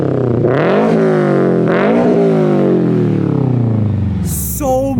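A 2022 Subaru BRZ fitted with UEL headers revs hard several times up close, the engine note sweeping up and falling back in repeated blips before a long, loud climb and slow descent with a rumbling tone.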